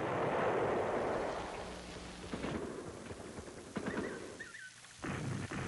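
Marine artillery guns at the Chu Lai base firing during the Vietnam War, heard as distant, heavy booms and rumbling thuds spread over a continuous roaring background.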